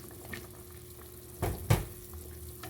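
Pieces of radish dropped one after another into simmering pork rib sinigang broth, giving two close, brief splashy thuds over a low, steady bubbling simmer.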